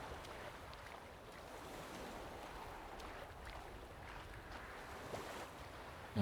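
Character swimming through water in The Witcher 3, a continuous soft wash of splashing and lapping water with faint rushing, steady and moderately quiet with no talk.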